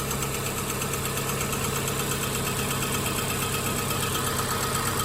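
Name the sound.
VW Jetta 2.0 liter engine idling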